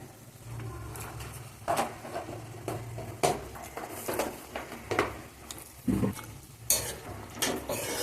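Chili powder and coriander powder are mixed in a pan for a palak peas curry, with soft scraping and a faint sizzle broken by irregular knocks and clatters of a spoon, moderately close with no talk.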